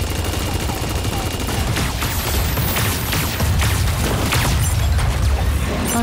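Rapid gunfire from a Super Mecha Champions mecha battle game, dense bursts of shots and booms crowding one another at high volume through the whole stretch, with no voices over it.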